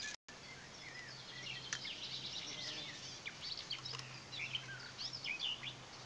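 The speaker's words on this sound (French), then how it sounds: "En plus on a des oiseaux avec nous là." Small birds chirp and twitter repeatedly at a calm outdoor fishing spot, fairly faint and scattered over a steady low hum of background ambience.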